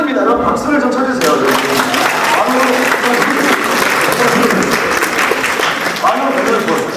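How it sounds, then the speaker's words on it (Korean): Church youth-service congregation applauding at a sermon, a dense continuous clapping that stays loud and close for the whole stretch, with a voice faintly audible underneath. "여러분 박수를 좀 쳐주세요."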